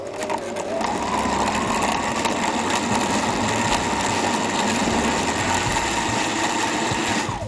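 Kitchen blender whirring steadily at close range while mixing mixed fruit juice with a sprig or two of fresh mint, a continuous motor drone running unbroken from start to end with no voices.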